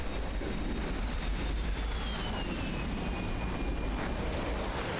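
A jet aircraft takes off in a flight simulator game, producing a loud, steady roar with a slowly falling whine that holds for several seconds with no voices.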